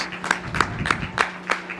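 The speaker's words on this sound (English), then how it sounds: "Come on, let's give them a big round of applause." Scattered clapping at a university commencement ceremony comes as a handful of sharp, evenly spaced claps, about five in under two seconds, rather than a full crowd ovation.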